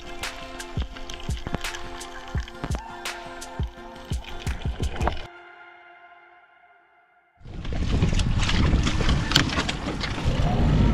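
Rattling clicks and knocks, a short quiet lull, then a sailboat's outboard motor in the Marquesas Islands roars to life in a loud, steady, close drone.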